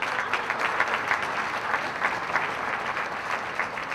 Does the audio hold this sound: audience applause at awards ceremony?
yes